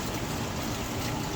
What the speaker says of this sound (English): And this is the quenching.